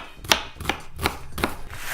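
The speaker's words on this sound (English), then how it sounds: "Horizontal cuts, cut, vertical cut," A knife dices vegetables on a cutting board, striking in about five crisp, evenly spaced chops, close and clear, with no talking.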